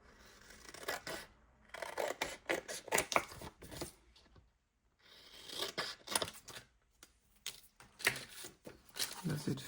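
Scissors snip through heavy card for a collage in quick bursts of crisp cutting and rustling, split by short pauses. The sounds are close and quiet, and no one speaks over them.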